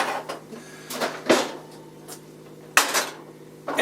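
Oven door and clattering cookware as a quiche goes into the oven, a series of close metallic knocks and clunks with one sharp bang near the end, over a low steady hum.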